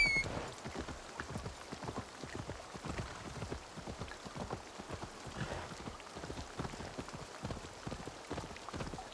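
Steady rain falls in Assassin's Creed Valhalla, a dense, even patter of drops hitting the ground that fills the whole stretch at a moderate, close level with no talking.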